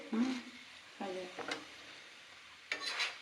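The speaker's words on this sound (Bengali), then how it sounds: "মা এখন পরোটাগুলো সেঁকে নিচ্ছে।" Carrot parathas fry in a small amount of oil with a soft, steady sizzle, broken by three separate scraping strokes of a spatula on the pan; nobody speaks.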